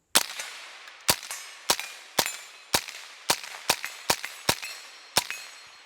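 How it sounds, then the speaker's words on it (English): A Tippmann M4 semi-automatic rifle chambered in .22 Magnum fires during a function test, letting off about ten sharp, loud cracks at a slightly uneven pace, each followed by a short ringing decay. "So let's see if this rifle will function test it."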